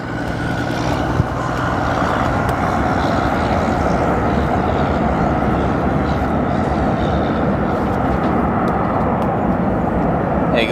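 An SAS Airbus A330 lands at O'Hare with thrust reversers deployed, giving a steady, loud, broad jet roar that holds level throughout without pauses.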